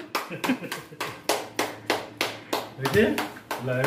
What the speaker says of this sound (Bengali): হাততালি হাততালি দাও